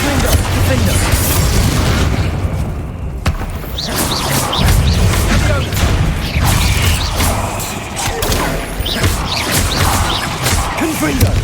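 Confringo and Bombarda spell explosions in the Hogwarts Legacy video game, a dense stretch of repeated booms, crashes and crackling bursts that follow one another rapidly during combat, loud and close with voices in between.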